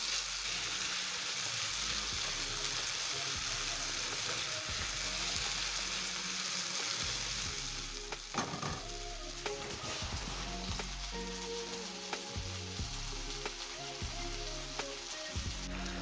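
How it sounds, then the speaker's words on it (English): Tomatoes fry in a pan on low heat for a beans and rice stir fry, a steady crackling sizzle with occasional pops and stirring clatter, close and continuous. "Then I'm going to cook my tomatoes until soft."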